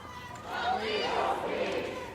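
A Sacramento street protest crowd of around 1,500 marching toward the Capitol, a steady wash of distant chatter and voices swelling slightly in the middle, with no single voice standing out.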